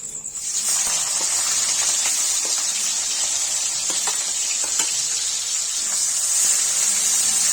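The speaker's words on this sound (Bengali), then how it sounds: "তেল গরম হয়ে গেছে এবার দিয়ে দেবো পেঁয়াজ কুচি" Chopped onion hits hot oil in a pan, setting off a loud, continuous close-up sizzle with a bright steady hiss and light crackle that holds throughout.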